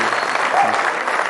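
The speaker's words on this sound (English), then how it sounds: "Let's have a round of applause for Gaur Gopal Das" Brief burst of audience applause for Gaur Gopal Das at a summit, dense clapping from a large crowd, loud and continuous.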